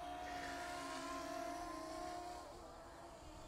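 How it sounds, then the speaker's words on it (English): DJI Mini 2 drone in flight, a steady, even whine with a sustained tonal hum held close and constant, easing slightly quieter near the end, with no voices. "I'm flying the drone at the same time"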